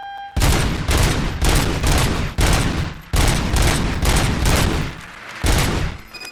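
Sustained automatic gunfire rattles from Robocop's infinite-ammo weapon in Robocop: Rogue City, loud and close. It arrives in several long unbroken bursts separated by brief pauses, with no reloading.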